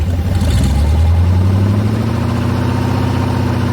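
A ZMZ V8 engine paired with a 4HP22 automatic gearbox runs in first gear, a loud close low rumble whose pitch climbs steadily as it pulls, no voices.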